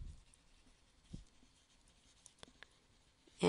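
Pen writing down a math answer on paper, a quiet close scratching with a few faint taps and strokes in an otherwise silent room.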